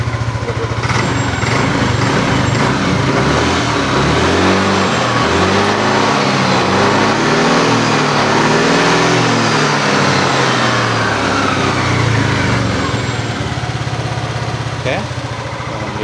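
A smoking motorcycle engine with a leaking clamp seal runs steadily throughout, a loud close idle with rising and falling revs and a continuous exhaust rumble, while someone talks over it.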